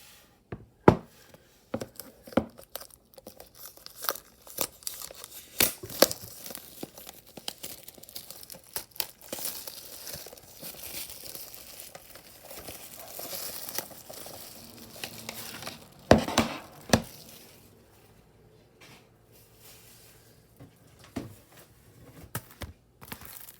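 A Moon Knight steelbook case being unwrapped and opened, with irregular plastic crinkling, tearing and light knocks close by, bursts of handling noise scattered throughout.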